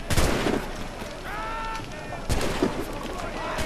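Booming cannon fire in a naval battle in Assassin's Creed IV, loud and continuous with heavy bursts near the start and again around the middle, mixed with game noise and a few tonal sweeps.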